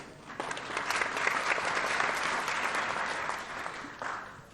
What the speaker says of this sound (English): Clap for him. A proper clap, please, for him.